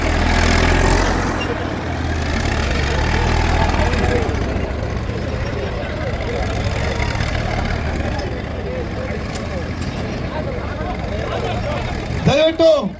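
A tractor engine rumbles low and steady at a rural tractor festival competition in Anekal while a loud announcer talks over it almost throughout, with a brief sharp burst near the end.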